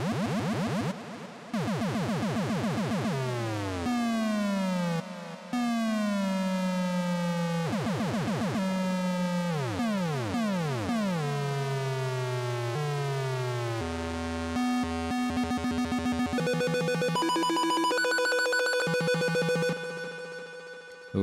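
An SHR dub siren effect in Ableton sweeps and wails continuously, with rapid rising and falling electronic tones that shift into faster trills and steady beeping pulses before fading out.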